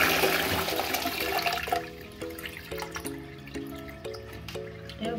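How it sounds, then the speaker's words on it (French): A household toilet flushes with a loud rush of water that drops away, followed by trickling, gurgling refill and dripping sounds in a small bathroom. "Attendez, je vais refaire une chasse d'eau."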